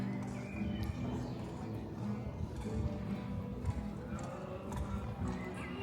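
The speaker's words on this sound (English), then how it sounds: "There's a horse over there." Horse hooves clip-clopping amid a busy outdoor crowd, the hoofbeats muffled under chatter and street noise.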